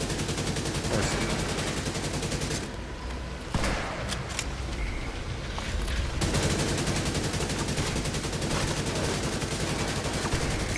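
A light machine gun fires in The Division 2, a loud, sustained automatic stream of shots that drops away briefly midway before resuming just as dense.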